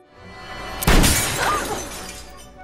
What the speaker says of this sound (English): Kate shattered the glass and threw herself onto Esther and knocked her out.